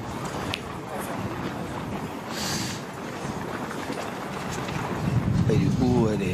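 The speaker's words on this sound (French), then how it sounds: "Alors que le vent se lève un peu" Wind gusting outdoors at a pétanque match in Saint-Tropez, a steady roar buffeting the microphone and swelling stronger toward the end, with a brief voice near the close.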